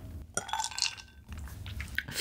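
Wet, squishy chewing and biting of sea urchin roe mixed with raw beef yukhoe, close and soft, with a few light clinks of utensils against a dish and no talking.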